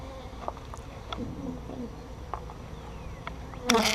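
Honey bees buzz around an open hive during an inspection, with several bees drifting close and away in short buzzy passes, plus light taps and handling noises, ending in a louder clatter.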